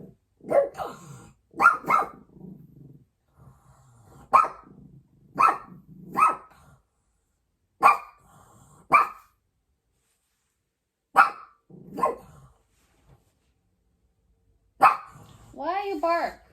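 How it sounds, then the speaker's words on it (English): A dog barks in short, sharp bursts spaced a few seconds apart, fairly close, ending with a higher whining yelp, in an otherwise quiet room. "why you bark? Why you bark?"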